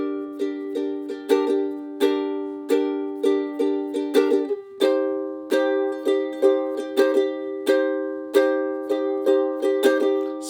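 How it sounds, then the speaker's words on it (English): Steady ukulele strumming in a down, down, up, up, up, down, up pattern, crisp repeated strokes ringing close and alone, with a chord change partway through and the rhythm cycling on without pause. "And you just keep repeating that strumming pattern."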